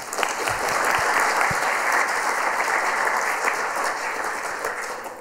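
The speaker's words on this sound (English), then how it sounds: "Give her a big applause" Conference audience at AusCERT 2019 applauding to welcome a speaker, a dense, steady wash of clapping that holds loud for the whole stretch and fades slightly toward the end, with no voices over it.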